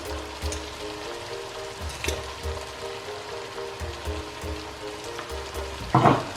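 A gari fortor mixture seasoned with black pepper, oregano and thyme sizzles steadily in a pan, a close, even frying hiss with a brief louder scrape near the end.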